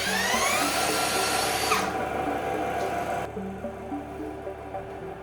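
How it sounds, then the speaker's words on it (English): A cordless drill spinning an alternator whirs continuously with a high whine that drops in pitch partway through, along with a steady mechanical hum. "with this cordless drill, we start the alternator moving"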